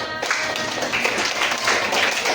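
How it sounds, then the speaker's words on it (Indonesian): A group claps together in a dense, steady burst of applause, close and fairly loud, with a few voices mixed underneath. "Tepuk tangan."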